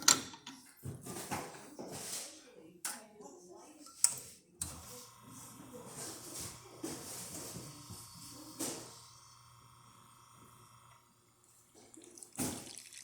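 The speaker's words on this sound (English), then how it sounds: "let's go ahead and test it and make a espresso shot on it" A serviced Lelit Bianca espresso machine pulling a test shot, its pump humming steadily while water hisses and trickles, with clicks and knocks before and a brief clatter at the end; a person talks during the first few seconds.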